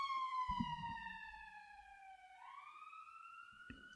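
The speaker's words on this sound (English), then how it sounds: "Here's the ambulance." An ambulance siren passes outside, its wailing tone sliding down then up again as it goes by, moderately distant, with brief muffled bumps and a short voice at the start.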